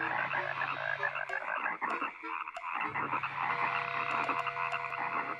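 A chorus of frogs croaks continuously at close range, a dense, steady rattling that keeps going for several seconds with no voices.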